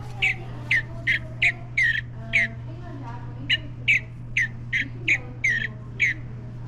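Recorded mountain bluebird call played back at a nature center, a series of about a dozen short, bright chirps in two rhythmic bursts over a steady low electrical hum.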